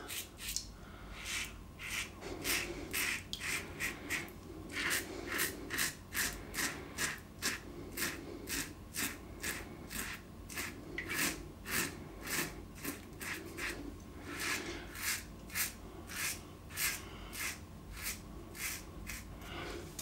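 Safety razor scraping across stubble on a third shaving pass, close rhythmic short rasping strokes repeating steadily throughout, fairly quiet with no talking.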